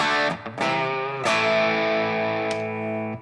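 Electric guitar run through a green overdrive pedal, a few struck distorted chords ringing out and sustaining loudly, with no talking.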